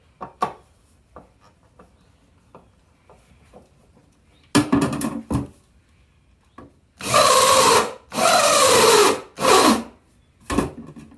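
A power drill sinks screws deeper into aluminum on a black walnut shotgun case, with several loud bursts of whirring and grinding in separated runs, amid quieter handling knocks and taps.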